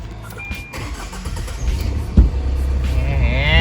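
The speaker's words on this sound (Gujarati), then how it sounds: "ડીઝલ એન્જિન ખટારો ચાલુ થયો છે ભાઈ આપણો" An old diesel engine vehicle cranks and catches, then settles into a loud, steady low rumble and clatter close by.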